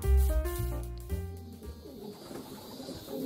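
Racing pigeons in a loft coo in low, rounded, repeated phrases that are close and clear at first, then fade into softer background rustle.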